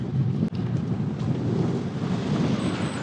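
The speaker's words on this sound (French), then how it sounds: "En vrai, le vent est très très froid." Cold wind roaring steadily into the microphone while commuting by bicycle on a chilly day of about 7 degrees, a loud, continuous broadband rush with one brief dropout and no talking.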